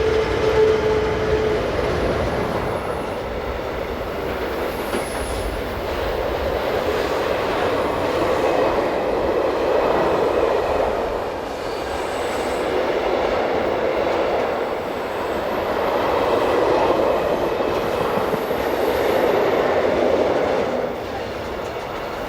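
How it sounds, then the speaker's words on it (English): A Swiss Re 6/6 Class 620 electric locomotive hauls a train over the Gotthard main line, producing a steady, loud rumble with wheel and rail noise that swells and fades in waves throughout, and no voices. "In happier times, the loco heads over the Gotthard Pass main line"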